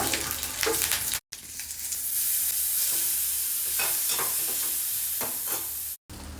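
Turmeric frying in hot oil with curry leaves in a pan, a steady loud sizzle with occasional stirring scrapes and two brief cuts to silence, no voices.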